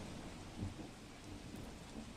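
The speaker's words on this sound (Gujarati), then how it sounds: "ધોધમાર વરસાદથી રસ્તા પર પાણી વહેતા થયા છે।" Heavy monsoon rain pours down in Junagadh, a steady dense hiss of a downpour with low rumbling underneath, continuous and fairly close throughout.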